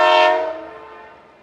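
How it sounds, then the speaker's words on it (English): A train horn sounds at a station as a single loud, sustained blast that fades out over about a second, with no other sound around it. "At 9:15, the train arrives."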